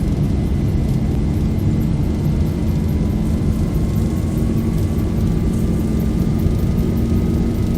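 Boeing 737 jet engines spooling up to takeoff thrust in an X-Plane 11 cockpit, a loud steady roar with a slowly rising whine that climbs throughout, continuous with no pauses.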